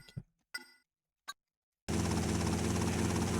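Helicopter in the PS2 game GTA Vice City Stories: a few short game sounds, then a loud, steady broadband rotor and engine roar that starts abruptly and holds until the end.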